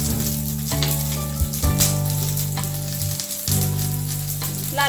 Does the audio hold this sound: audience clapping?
no